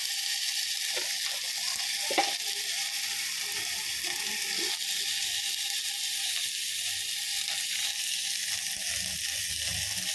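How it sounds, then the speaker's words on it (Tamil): Cinnamon and cloves fry in hot oil, a loud, steady hiss and crackle with occasional sharp pops, close-up and continuous, with no talking. "அது இல்லாதவங்க 2 பட்டை 2 கிராம்பு போட்டு தாளிச்சிக்கணும்"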